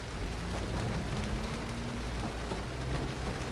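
Steady, heavy rain in the visual novel game Chocolat: Maid Café "Curio", pouring down as a dense even hiss with a low rumble underneath, continuous throughout with no voices.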